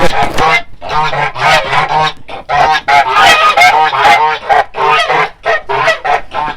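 A flock of geese honks loudly and close by, overlapping nasal calls in a continuous noisy chorus.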